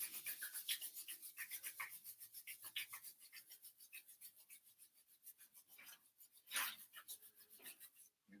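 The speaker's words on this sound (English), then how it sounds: "Rub the hands together." Hands rub briskly together during a workout, a fast, steady, close rhythmic rasping that continues without pause.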